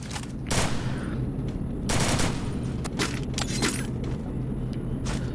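Sniper rifle shots and Uzi bursts ring out in a tournament match of a shooting video game, a run of sharp loud reports and rapid volleys over a steady low background rumble.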